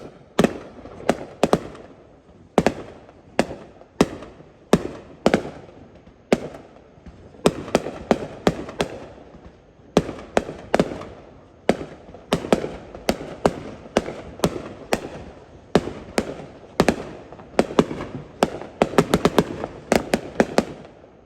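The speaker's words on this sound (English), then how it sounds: "hopefully I'll be able to film a little bit of the fireworks tonight too, since it's 4th of July" Fourth of July fireworks bursting in a steady barrage, with dozens of sharp cracks and booms arriving in clusters, some with crackling tails, moderately distant and with no talking.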